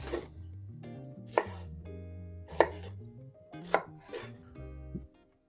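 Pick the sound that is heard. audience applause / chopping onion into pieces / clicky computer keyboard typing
chopping onion into pieces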